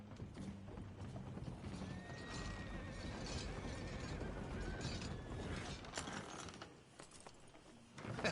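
A horse in the video game Red Dead Redemption 2 gives a rising whinny amid clattering hooves and mechanical ratcheting and creaking, a dense mid-level game soundscape with no speech.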